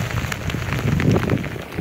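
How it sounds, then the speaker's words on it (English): Rain pours steadily at an outdoor location in Iceland, a close, constant patter of drops on surfaces with dense splashy texture and no voices. "But it's raining, so we gotta wait for the rain to stop"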